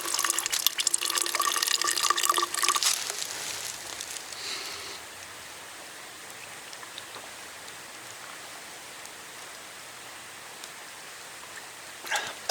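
Water is run through a filter on a solo bikepacking trip on the North Fork Mountain Trail in West Virginia, making a close trickling splash for about four seconds before fading into quiet outdoor ambience.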